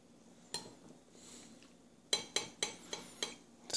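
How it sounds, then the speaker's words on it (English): A metal spoon scoops lentils from a bowl, giving a single clink and then a quick series of five or six close, bright scrapes and taps against the dish in a quiet room. "Scoop the spoon up, fill it up."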